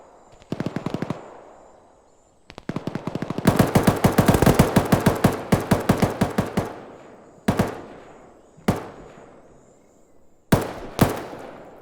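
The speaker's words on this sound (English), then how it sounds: "They're trying to get fire on this building, and they're getting some heavy fire on it as well." Heavy automatic gunfire rakes a building in the military shooter Arma 3: rapid bursts, a long sustained volley in the middle, then several sharp separate shots, loud and close.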